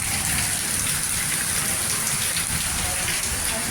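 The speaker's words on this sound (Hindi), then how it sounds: "देखिए सामने से देखो आप, कितनी तेज बारिश है" Heavy monsoon downpour pouring outside a home, with water rushing from a drain, a dense, constant roaring hiss close by and without pause.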